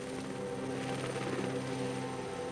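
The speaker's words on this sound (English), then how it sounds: "The chopper flies across a blanket of green jungle." A helicopter flies over dense green jungle, its rotor and engine making a steady, fairly distant droning hum with a faint pulsing beat, continuous and alone without talk.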